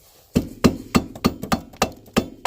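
Hammer tapping a screwdriver into a rear wheel hub on a 2001–2005 Honda Civic during a bearing change: about eight sharp metallic knocks in a steady rhythm, close and loud, with no talking.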